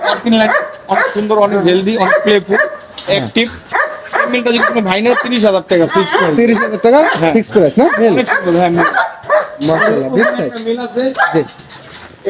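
Dogs barking and yipping at a German Shepherd breeding farm in Mirpur, heard as close, repeated barks and whines mixed in with steady conversation between people throughout.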